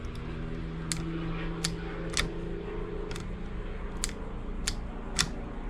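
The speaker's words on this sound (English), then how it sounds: "But we should hear this click." Ignition switch from an MK3 Jetta clicking as the key turns, a series of sharp, distinct clicks at an uneven pace, close by, over a steady low hum and no talking.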